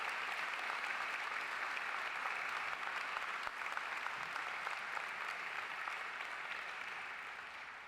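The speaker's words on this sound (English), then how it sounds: "How about a round of applause for an Olympic champion here at Nipissing?" Sustained applause from a convocation crowd at Nipissing University honoring Olympic champion Jennifer Jones, a steady dense wash of many hands clapping that holds evenly and then slowly fades toward the end.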